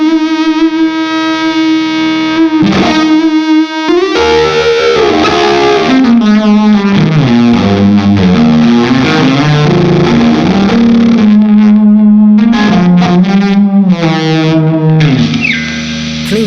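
Electric guitar run through a Tonebender Mark III/4 fuzz pedal, thick buzzy distorted notes and bends played continuously for several phrases, loud and close with a hairy sustained tone.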